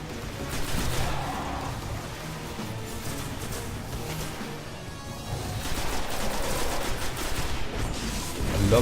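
Dense, continuous gunfire from a character running, jumping and shooting in the Destiny alpha on PS4, with rapid shots layered into a steady loud barrage over the whole stretch.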